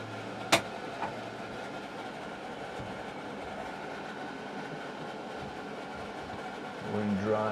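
Cabin of a 2022 Citroen Ami electric car driving on wet roads, a steady droning road and motor noise with a sharp click early on and a voice near the end.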